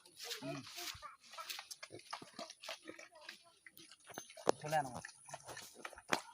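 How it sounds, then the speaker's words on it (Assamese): Chickens cluck softly in the background while people talk nearby, with scattered short pecking and scratching noises. "এইফালে এইটো আমাৰ কুকুৰা গঁৰাল।"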